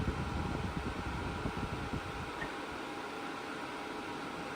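A Dyson HP09 purifying fan heater running while it rotates, giving a steady close airflow whoosh with a low hum that eases slightly partway through, with no talking.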